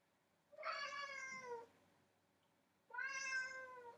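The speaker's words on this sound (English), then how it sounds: "Sorry if you heard my cat" A pet cat named Kana meows twice nearby, each a drawn-out, clear call of about a second, separated by a short quiet gap, faint against a quiet room.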